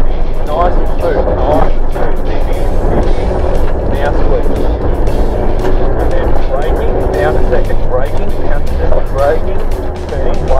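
A rally car's engine drones loudly and continuously during rally-school driving, rising and falling with gear changes and braking, while a person talks over it throughout.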